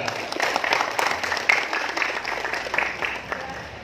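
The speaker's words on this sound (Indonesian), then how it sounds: "Sekali lagi tepuk tangan untuk Bupati kita." An audience applauds a regent at an indoor public gathering, a steady wash of clapping that is fairly loud throughout and mixed with some voices.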